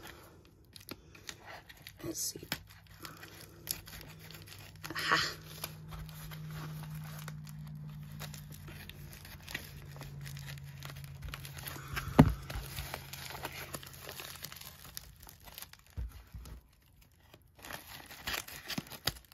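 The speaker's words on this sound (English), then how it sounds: "Sometimes trying to get into the mail is really fun, especially when your scissors are kind of dull." Dull scissors snip and tear at a big orange bubble mailer, giving close crinkling, ripping and cutting noises that come in bursts over a stretch of handling, with a person talking briefly.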